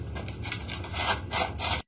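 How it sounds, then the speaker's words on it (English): Pliers gripping and working at the stub of a cut-off door handle on an old safe, a continuous scraping, rubbing metal sound close by, with bursts of harder rasping and a brief gap near the end. "So we're just gonna give it a go with some pliers."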